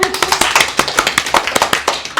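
A small group at a children's story club claps in a loose, uneven patter of individual hand claps, close and fairly loud, with no talking.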